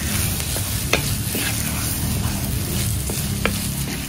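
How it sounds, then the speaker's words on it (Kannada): Masala being stirred and fried in ghee for a pathrode filling: a steady close sizzle fills the whole stretch, broken by a few sharp scrapes of a spoon against the pan. "ಒಂದು 2 ನಿಮಿಷ ಇದೇ ಥರ ಈ ಮಸಾಲವನ್ನು ಇದೇ ತುಪ್ಪದಲ್ಲಿ ಒಟ್ಟಿಗೆ ಮಿಕ್ಸ್ ಮಾಡೋದು"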